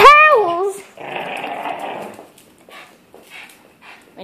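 A pug dog growls at a towel, opening with a high whiny yelp and then a rough, low growl that fades out, with people talking nearby.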